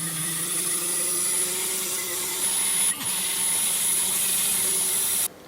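An ultrasonic cleaner runs with a boulder opal and a polishing brush inside, giving a steady close hum and high-pitched whine that holds throughout, with a brief dip and a short break near the end.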